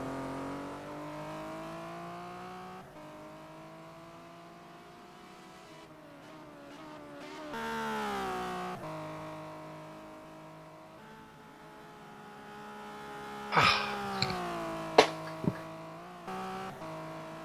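Touring cars racing at the Pukekohe circuit in New Zealand, engines droning and shifting pitch as cars pass, with a few sharp louder bursts near the end, heard at moderate distance without talk.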